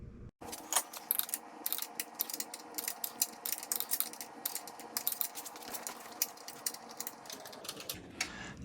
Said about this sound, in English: Now I just got to tighten up the two bolts up on the frame behind the tire.